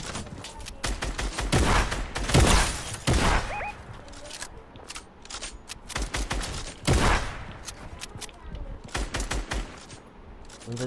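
Rapid bursts of automatic gunfire crackle in a Fortnite Battle Royale match, loud repeated volleys with brief pauses and sharp single shots, alongside footsteps and other game sounds.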